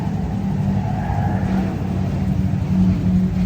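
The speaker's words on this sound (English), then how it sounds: "Really loud truck." A loud truck roars past close by in Nashville, a steady heavy engine drone with low rumble holding throughout, no voices over it.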